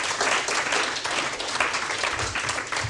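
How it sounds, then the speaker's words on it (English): An audience at a book event applauds after a reading, a dense burst of clapping from many hands that holds steady for a few seconds. "Thank you for clapping."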